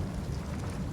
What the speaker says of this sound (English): it's got to do with the rain effect that I'm currently experiencing.